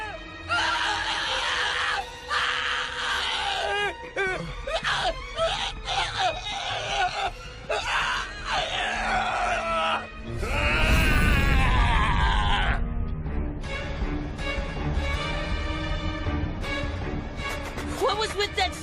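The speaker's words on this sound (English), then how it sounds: "What was with that scream?" A scream in an English-dubbed anime, loud shrieking voices and groans mixed with dramatic noise and speech.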